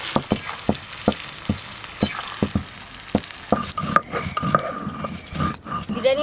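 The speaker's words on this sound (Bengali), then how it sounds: "তেল বেশ ভালো করে গরম হয়ে গেছে, এবার পেঁয়াজগুলো ভেজে বেরেস্তা তৈরি করে নেব।" Sliced onions fry in hot oil for chicken biryani, a soft steady sizzle under sharp rhythmic clicks and scrapes of a spatula stirring in the pan, close and moderately quiet.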